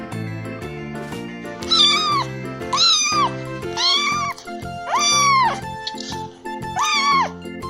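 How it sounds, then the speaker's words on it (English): A kitten meows about six times in a fairly regular series of clear rising-falling cries, close and fairly loud over soft background music. "kitten,"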